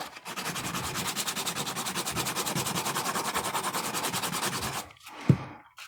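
Sandpaper rubs a hand-carved wooden owl in fast, even back-and-forth strokes that run steadily for about five seconds, then stop, followed by a brief knock and quiet handling.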